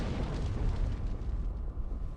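Fire bursts out in Dark Souls 2 at the Iron Keep in a steady, dense roar of blasts and rumbling booms. It fills the whole moment with no pause and no voice over it.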